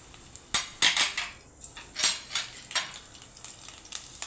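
A spoon stirs cumin, mustard seeds, peanuts and green chillies in hot oil in a pan, making repeated sharp metallic scrapes and clinks over a light sizzle.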